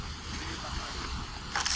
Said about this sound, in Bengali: দর্শক বন্ধুরা দেখতে পাচ্ছেন সাগর পিছনে আমার